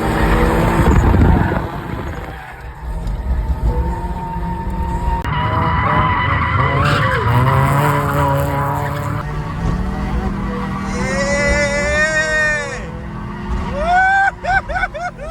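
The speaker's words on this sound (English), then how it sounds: "Cue the drifting montage." Stock 1.6-liter Mazda Miata drifting, its tires skidding and squealing in long pitched wails over a steady engine roar, with a louder burst of squeals near the end.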